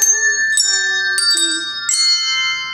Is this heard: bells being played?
yes